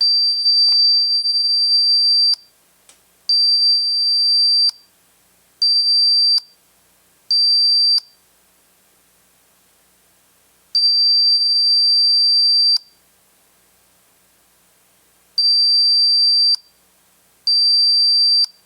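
Loud high-pitched electronic alarm beeps from a motion detector kit, triggered by movement, in bursts of varying length, starting and stopping repeatedly, with silence between them and no talking.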